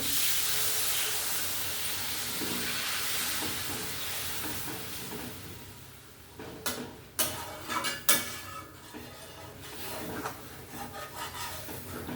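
Water goes into a hot pan of spiced masala for an egg and green jackfruit curry, with a steady broadband hiss and sizzle. A burst of stirring and scraping comes in the second half.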